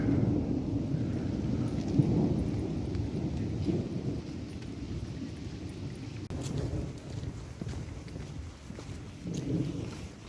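Thunderstorm rumbling with steady rain outdoors in Potsdam, low thunder rolling continuously and loud throughout, with no talk.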